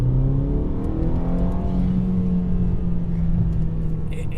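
A BMW 330i engine revs under acceleration, a loud close drone whose pitch climbs and then settles, with steady intake and exhaust growl throughout.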